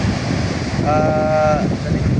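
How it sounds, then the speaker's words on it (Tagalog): Sea waves roll in at Talisay beach during stormy weather after a typhoon, a loud, steady roar of surf and wind buffeting the microphone, with a brief tonal whine partway through. "Mao ni dagat sa Talisay karon"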